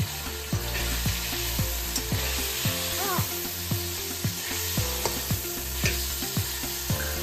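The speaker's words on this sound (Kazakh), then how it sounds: "Қызып тұрған майға туралған сәбізімізді, пиязымызды қосып, жақсылап араластырамыз" Chopped carrots and onions sizzle in hot oil while a utensil stirs them, giving a steady close frying hiss broken by regular scraping strokes against the pan.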